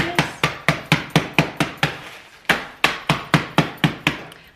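Biscuits in a bag struck with a wooden spoon, about sixteen sharp, evenly spaced thuds in steady rhythm with a short pause midway, close and fairly loud with no talking.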